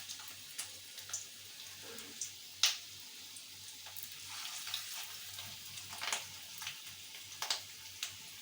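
Fish roe fritters frying in oil over a low gas flame, giving soft, scattered crackles and occasional sharper pops, faint and spread out with no voices.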